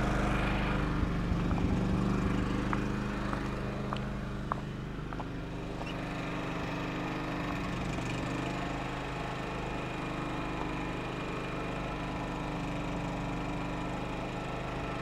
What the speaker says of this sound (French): On peut considérer que ce groupe électrogène est silencieux.